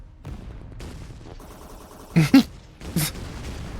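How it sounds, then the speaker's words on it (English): Fireworks go off outside, heard as a few muffled booming bursts in quick succession alongside indoor talking. "I'm hearing fireworks."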